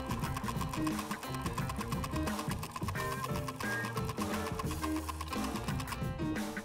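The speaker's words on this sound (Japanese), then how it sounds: "こっちの2辺をミシンで縫っていきます。" A sewing machine stitches along the edges of a leather A4 file, running in a steady, dense mechanical rattle that stays loud and continuous throughout with no talking.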